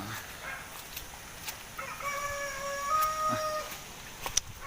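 Chickens at a storm-damaged poultry farm after Typhoon Ulysses: a rooster crows clearly in a long rising call amid scattered clucks from the flock, with steady outdoor background noise.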